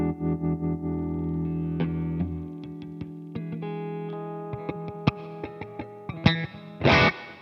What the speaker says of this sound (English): that's a pretty nice clean tone